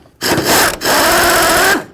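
Power tool spinning off fan shroud mounting bolts on a 1992-2000 Chevy Tahoe, two close, loud whirring bursts separated by a brief pause, with no talk.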